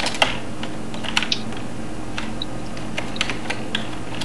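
Rapid computer keyboard clicking during a session of The Binding of Isaac: Wrath of the Lamb, a steady run of close, sharp key taps with occasional louder strokes and no talk.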